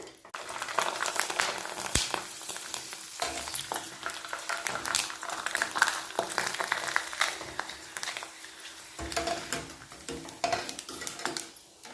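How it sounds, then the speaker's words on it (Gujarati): Sabudana papad fries in hot oil with a steady sizzle and bubbling, mixed with utensil clinks and scraping against the pan, and no talk over it. "એ જ રીતના આપણે બીજો પાપડ તળીશું"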